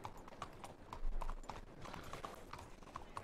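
Horse hooves clip-clop in a steady, brisk rhythm of light knocks, moderately near, over a rumbling background with a brief low thump.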